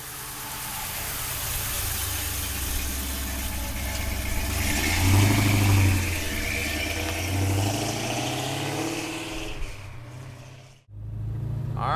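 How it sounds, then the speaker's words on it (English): A 1972 Oldsmobile Cutlass W-30 tribute with a big block engine and 4-speed gearbox drives along. Its deep engine note holds steady and close, swelling midway as it revs, then briefly cuts out before the rumble returns. "let's take the Oldsmobile for a ride. Big block power, 4-speed, awesome hood on this car"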